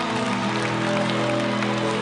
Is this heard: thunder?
no